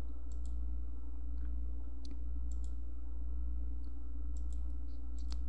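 Faint, sharp mouse clicks sound while working in Adobe Fireworks CS4, about a dozen scattered irregularly over a steady low electrical hum in a quiet room.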